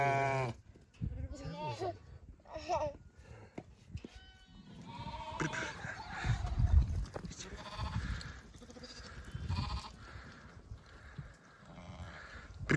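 Sheep and lambs bleat on a farm in repeated wavering calls, fairly close, while people talk in the background and occasional handling noises come through.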